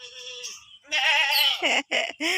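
Goat bleating in a farm pen, several loud, close, wavering cries in quick succession, the first drawn out and the later ones shorter and choppy.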